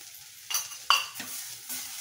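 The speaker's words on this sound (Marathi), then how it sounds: "आणि छान असं परतून घ्यायचं." A spoon scrapes and stirs metkut spice mix through ridge gourd in a pan on the stove, with a few distinct metallic scrapes and clinks spaced about half a second apart and a faint sizzle beneath, fairly quiet.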